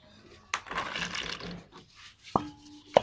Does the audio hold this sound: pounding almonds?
yes